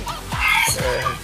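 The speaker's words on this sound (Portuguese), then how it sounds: "Agora as galinhas começaram a cantar aqui." Chickens clucking close by, several quick overlapping clucks and squawks in a busy burst lasting just over a second, loud and near, with no talking.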